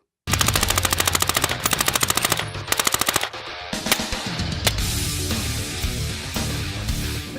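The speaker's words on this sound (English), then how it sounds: "Because I'm only small, they've given me the minigun." A minigun fires at the Utah National Guard compound, pouring out loud, rapid bursts of gunfire that run almost without a break, with sharp individual shots standing out over a dense, roaring clatter.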